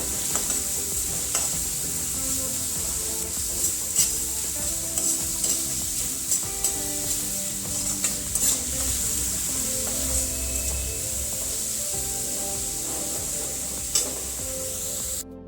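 Ginger-garlic paste being stirred in a hot pan for restaurant-style chilli paneer, a steady bright sizzle with repeated spoon scrapes and clinks, close and continuous throughout, no talking.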